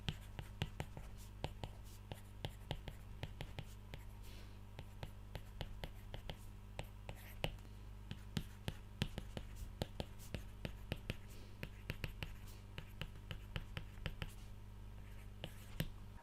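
An Apple Pencil writes on an iPad fitted with a PaperLike 2 matte screen protector, giving faint, close scratchy taps and strokes. They come in quick irregular bursts over a quiet background hum.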